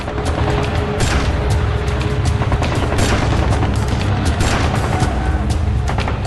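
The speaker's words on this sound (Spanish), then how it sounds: "Y devuelven el fuego." Dense, continuous gunfire and heavy booms fill the scene during the 1968 Tlatelolco massacre in Mexico City, a loud chaotic barrage of overlapping shots with no pauses.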